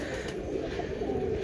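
Red chulli pigeons, a high-flying breed kept as a pair, cooing softly in low repeated murmurs, a steady close, gentle sound with no talking over it.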